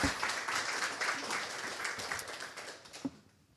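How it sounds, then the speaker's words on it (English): Audience applause at a cybersecurity meetup, a dense spread of clapping at moderate distance that gradually thins and fades out over a few seconds. "Let's give it another applause."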